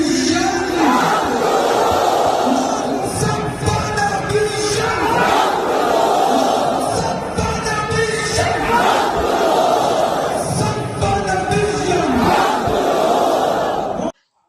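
A large crowd at a religious gathering chants slogans at full force in loud, rhythmic waves of massed voices. A brief cutoff comes at the end.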